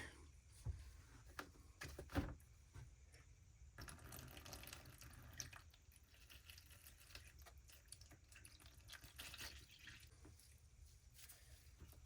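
Distilled water pours steadily from a container onto a cake with a soft, continuous trickle and a few clinks at the start, faint and close.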